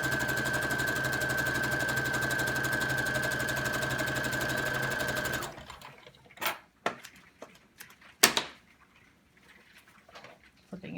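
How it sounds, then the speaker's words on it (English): A sewing machine runs steadily, stitching a quarter-inch seam down the side of a fabric face mask, loud and continuous for about five seconds before stopping, followed by scattered faint handling clicks and taps. "And we're going to sew down each side first off."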